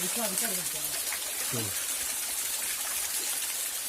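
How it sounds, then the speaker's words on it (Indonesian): A small waterfall in a hidden gorge rushes steadily as continuous broadband water noise throughout, with a person talking over it near the start. "Ini ada air terjun mini ya."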